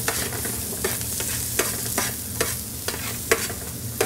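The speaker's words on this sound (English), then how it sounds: "Give them a little bit of a fry." Vegetables fry in a tray alongside pancetta and sausages, a dense close sizzle broken by regular clattering stirs of a utensil against the pan.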